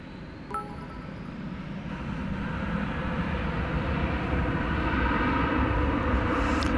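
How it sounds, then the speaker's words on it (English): An American Airlines Boeing 777 departing DFW Airport for a long flight to Doha, heard as a broad jet roar that builds slowly and holds loud and steady, with a brief thin tone near the start. "And once again, that is a 777. Going to be making a long flight back to Doha."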